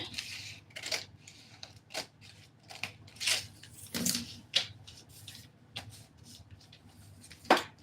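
Scissors snipping through dress fabric, with a series of short, crisp, close cuts at an irregular pace and quiet pauses between them, with no voices.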